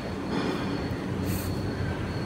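Transit coaches roll along a platform at a Bengaluru station, a steady low rumble of railcar wheels with a faint high squeal near the middle, moderately distant and without voices.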